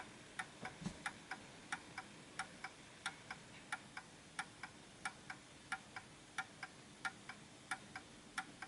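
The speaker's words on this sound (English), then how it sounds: "This is a fully functioning clock." Steady, regular ticking of an Art Deco Enfield Westminster chime mantel clock, crisp clicks about twice a second, close and quiet with no voices.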